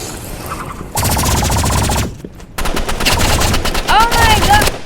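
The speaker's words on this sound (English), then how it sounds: "we can only use energy pistols, so we might be cooked" Energy pistols fire in Roblox Rivals, with loud rapid bursts of gunfire split by a brief pause, followed by further shots and faint synthetic game tones.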